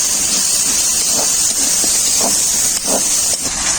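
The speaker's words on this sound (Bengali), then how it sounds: "অল্প একটু জল দিয়ে দেবো মশলাটা ভালো করে কষানোর জন্য" A spice paste frying in a pan hisses loudly as a little water is added, a steady close sizzle with faint bubbling pops and no talk.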